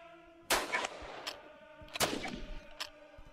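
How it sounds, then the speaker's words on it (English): Grenade explosions in a video game, two sharp booming blasts about a second and a half apart, each followed by shorter cracks and a decaying rumble over a steady low background. "That's long distance grenade."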